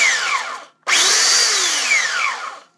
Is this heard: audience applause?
no